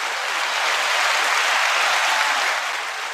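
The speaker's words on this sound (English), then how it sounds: "So let's clap my man up for that" Steady, dense applause from an audience on a sports and culture talk show, loud and unbroken for about three seconds before easing slightly at the end.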